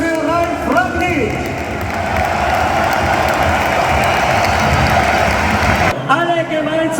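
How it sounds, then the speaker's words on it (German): A large stadium crowd in Vienna applauds and cheers for Austria's national team coach Ralf Rangnick before a Euro qualifier against Belgium, a loud, dense, sustained roar of clapping that cuts off abruptly near the end, with an announcer's voice at the start and finish. "Kräftiger Applaus für Ralf Rangnick"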